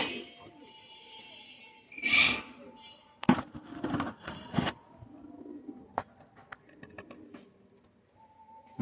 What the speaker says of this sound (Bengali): কেটিএমের এক সেট কবুতর